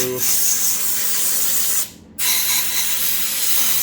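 Compressed air hisses steadily while blowing dirt and debris off the connecting rod journals of a forged VQ37VHR engine crankshaft, loud and continuous with one brief pause near the middle.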